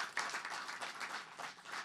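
A crowd at a society's launch event applauds board members, a dense, continuous patter of many hands clapping at moderate distance, fairly soft and swelling slightly in waves, with no talking on top.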